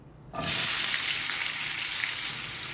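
Beetroot tipped into hot oil bursts into a sudden loud sizzle that stays strong and steady, close by, with no voices.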